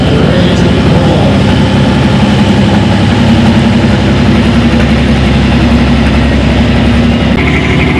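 An International 1066 tractor idles at a tractor pull, a loud, steady low diesel rumble holding near and constant throughout, with a slight change in tone at the very end.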